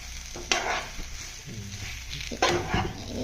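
Egg is stirred into a sizzling beetroot stir-fry (thoran) in a pan, with two sharp scraping strokes of the spoon over a steady, close frying hiss.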